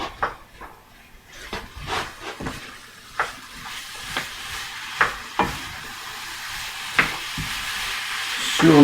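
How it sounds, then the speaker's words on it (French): Apples cooking in melted butter and maple sugar are stirred in a pan, a soft sizzle under a series of sharp spoon scrapes and taps spaced irregularly, close and fairly quiet. "on remue pour que mes pommes s'imbibent bien du beurre et du sucre d'érable"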